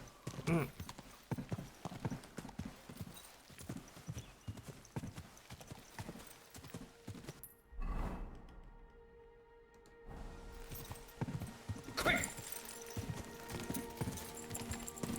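Rapid hoofbeats of a galloping horse in the video game Kingdom Come: Deliverance II pound rhythmically, pausing briefly into a quiet gap before resuming, with a short whinny-like accent near the end.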